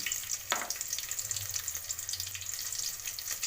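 Onion and bay leaf fry in hot oil with cloves and cinnamon for a simple pulao, giving a steady close-up sizzle with faint stirring.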